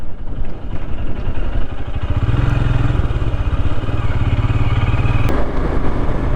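Royal Enfield Scram 411 with its old-school single-cylinder engine, heard while riding: a close, rhythmic, agricultural thumping that steadies into a continuous throb.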